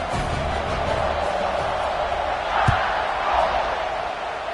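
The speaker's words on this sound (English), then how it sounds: "this crowd is feeling themselves after that last drive" A stadium crowd in a college football video game, a broad steady roar of cheering from many voices, with a brief thud partway through.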